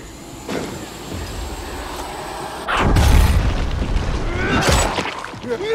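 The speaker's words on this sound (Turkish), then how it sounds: "Patlattım kaç oradan." An explosion in Dying Light 2 arrives as a heavy boom partway through over an already noisy scene, followed by rumbling debris and a second whooshing burst before it fades.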